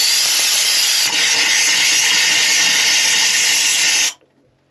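Compressed air blowing hard through a homemade non-freezing chicken coop waterer, a loud steady hiss lasting about four seconds before cutting off abruptly.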